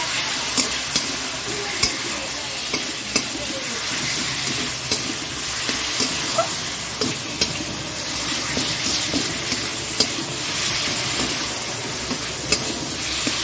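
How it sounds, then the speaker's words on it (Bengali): Spiced food sautéed in a pan with salt, sugar and a little chili powder, stirred steadily: a close, continuous sizzle with regular scraping and clacking of the spoon against the pan every second or so. "ভালো করে কষিয়ে নেব"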